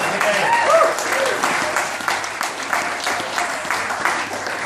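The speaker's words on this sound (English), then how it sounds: "So please, give a round of applause." Steady applause from an audience at a JavaScript programming talk fills the whole stretch, a dense patter of many hands clapping at moderate loudness.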